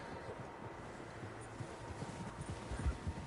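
Horse hooves clip-clopping faintly over outdoor wind noise in the Red Dead Redemption 2 video game, several horses moving at a distance with soft uneven steps.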